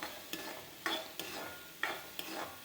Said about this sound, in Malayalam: ഇനി നല്ലോണം നമ്മൾ ഇളക്കി കൊടുക്കണം